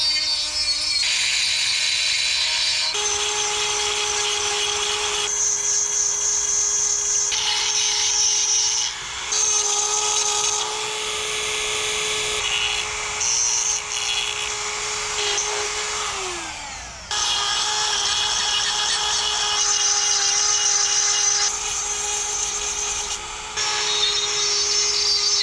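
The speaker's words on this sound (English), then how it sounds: "I think the Dremel tool is going to be alright for cleaning up the faces of the bricks" A Dremel rotary tool grinds the faces of old salvaged bricks with a high, continuous whirring buzz, nearby and loud, its pitch wavering and dipping briefly as the bit bites into the surface.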